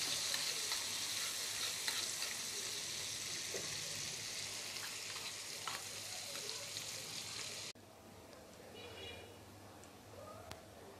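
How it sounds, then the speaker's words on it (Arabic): Garlic cloves frying in oil that was used for onions, a continuous close sizzle and crackle that drops to a quieter bubbling hiss partway through, with faint clinks. "هننزل فيه بفص الثوم نحمره فيه الزيت"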